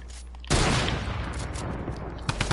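A blue pump shotgun fires in a video game: a sudden loud blast cracks out, then a noisy, booming tail with a few more sharp hits near the end.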